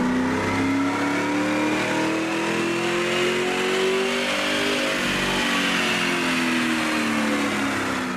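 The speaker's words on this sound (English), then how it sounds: "We begin with the baseline dyno run." A 2005–2010 Mustang GT with a 4.6-liter V8 and ceramic-coated shorty headers revs steadily on a chassis dyno, loud and close, its engine tone climbing and dipping through a continuous run with no talk.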